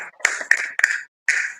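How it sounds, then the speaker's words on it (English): Children clap for themselves in a short, quick burst of hand claps, close and crisp, followed by a brief pause and another clap. "Clap for yourself."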